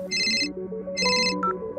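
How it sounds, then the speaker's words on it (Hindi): A telephone rings with an incoming call, two short bursts of electronic trilling over a soft melodic tone, close and clear, without speech. "जब उसे उसके अतीत से जुड़ा एक फोन आया"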